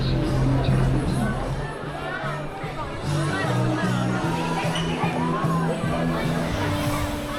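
A dense crowd clusters around a viral pink-suited Santa Claus outdoors in China. Many overlapping voices make a steady, close babble with no pauses.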